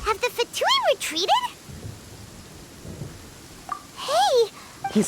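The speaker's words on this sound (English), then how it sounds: "Paimon hears thunder!" Steady rain and low thunder rumble fill the gaps of a Genshin Impact storm, a soft continuous wash under brief bursts of high, chirpy character voices at the start and near the end.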